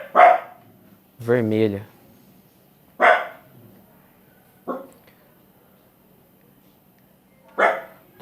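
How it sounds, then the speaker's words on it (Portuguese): A female dog barks in short single barks spaced a few seconds apart, fairly close in an indoor room, with one more drawn-out yelping bark among them and a brief spoken word near the start. "Talvez vocês estejam escutando aí a participação especial da perrita, da cachorra dos meus pais"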